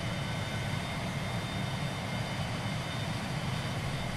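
Steady jet-engine roar from a train in the video game Transport Fever, a constant broadband whoosh with a faint high whine, unchanging throughout and heard alone.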